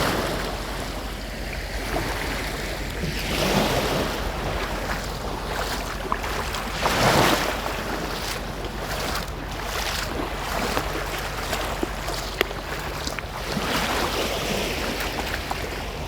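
Waves lapping and churning across wide floodwater at Belari in the rainy season, a steady close wash of water with gusts of wind sweeping over it and a few louder splashes, no voices.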